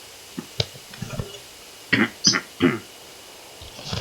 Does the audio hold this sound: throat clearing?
yes